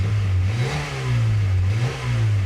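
A fuel-injected Honda Prelude engine revs loudly up close, its steady throaty drone rising and falling in pitch twice in a smooth rhythmic pattern.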